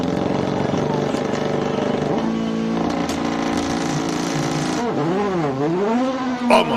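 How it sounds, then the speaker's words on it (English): A race car at the Simola hill climb launches with launch control, its engine stuttering and revving in rising and falling sweeps before bursting away, loud and close, with a commentator talking over it. "Our commentary box was shaking under the launch, sound of the launch control there."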